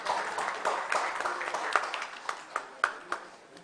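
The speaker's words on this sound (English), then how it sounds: "A round of applause, please," Attendees at an international workshop on heatwaves give a round of applause, a moderate patter of many hands with a few sharp, distinct claps standing out, sustained and fairly distant.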